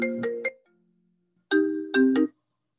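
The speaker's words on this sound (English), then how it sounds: "I just had another call coming in on my phone" Incoming-call phone ringtone: two short bursts of bright electronic tones, a pause, then another pair of tones, clear and close against silence.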